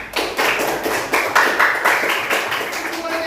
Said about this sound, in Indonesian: silakan tepuk tangan untuk kelompok 4